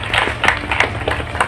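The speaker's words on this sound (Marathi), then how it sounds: "सर्वांनी टाळ्या वाजवाव्या" A crowd at an office inauguration ceremony claps in a quick, uneven patter of hand claps, moderately close and lasting only a moment.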